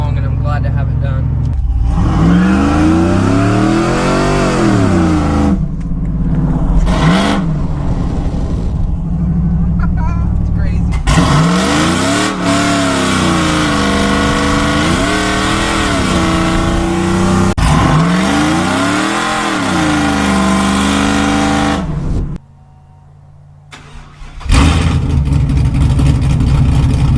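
A 500 HP 6.0 Silverado truck engine with a QTP exhaust cutout roars loudly and close, revving in long sustained surges with brief drops, then cutting to a quieter muffled idle near the end before revving again.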